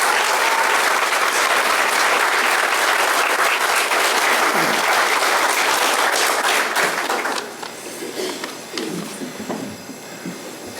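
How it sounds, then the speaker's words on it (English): Loud, dense applause from a crowd at a sheriff candidate forum, steady for several seconds before thinning into scattered claps and murmuring. "If we get a round of applause for these gentlemen standing up here tonight"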